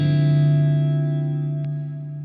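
A sustained electric guitar chord rings out with a lush, washy large plate reverb tail that slowly fades.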